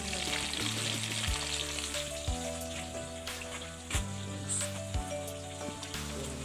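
Fish sizzles steadily in a hot pan, with a constant frying hiss and occasional pops, close and clear over a faint low hum, with no voices.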